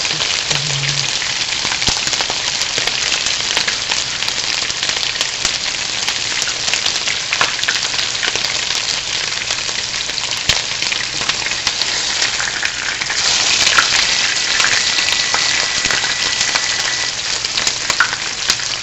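Pork chops fry over high heat in a hot pan, a loud, dense, continuous sizzle like heavy rain, steady for the whole stretch with crackling spits throughout and no talking.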